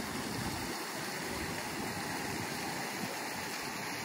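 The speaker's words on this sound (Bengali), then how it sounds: "এটা হলো যে ঝর্ণা।" A fountain in Qatar sends out a steady, loud rush of splashing water that stays unbroken throughout, with no talking.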